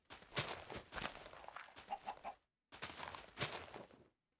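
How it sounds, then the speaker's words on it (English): Chickens in the Minecraft video game cluck in quick bursts of short, choppy game sounds, clustered in two groups separated by a brief silence, close and clear with no talking. "There is a chicken here."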